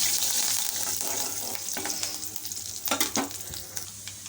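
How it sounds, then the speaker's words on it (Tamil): Mustard seeds crackle and splutter in hot oil in a pan for a beans dish: a close, steady sizzle that gives way to a burst of sharp pops and spatters, then quieter, irregular crackling, with no speech. "கடுகு வெடிக்க ஆரம்பிக்குது"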